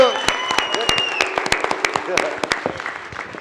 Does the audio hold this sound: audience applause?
yes